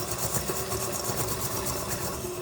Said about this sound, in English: the KitchenAid